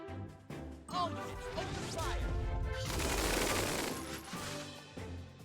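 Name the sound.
gunfire during a group attack in Tiny Metal video game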